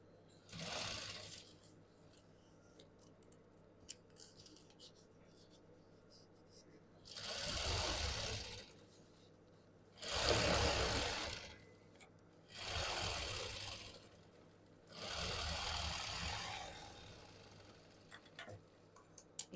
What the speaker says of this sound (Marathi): मी आता इथेच सरळ टीप मारून घेते